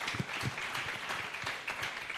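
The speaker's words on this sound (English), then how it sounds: "Please give them a round of applause." Audience applause fills a hall at a Lagos pharmacists' young professionals event, a steady, dense round of clapping that stays fairly even throughout, with faint low murmurs mixed in.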